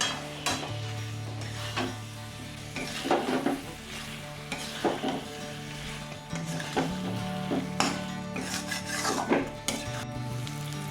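A spoon stirs crab curry masala as it fries in oil and crab fat in a pan, with repeated scraping strokes over a steady sizzle, close and continuous throughout.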